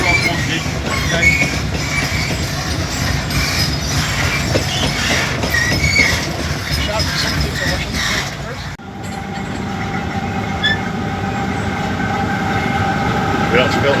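Torpedo rail wagons at Scunthorpe steel works roll past close by, with continuous rumbling, clanking wheels and metallic squeals. Voices can be heard over the train noise.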